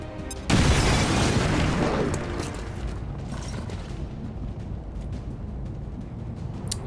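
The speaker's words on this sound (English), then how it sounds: "so I think I will throw the grenade." A grenade explosion in the video game XCOM 2 bursts with a loud, broad boom, then settles into a sustained rumbling roar that slowly fades over several seconds.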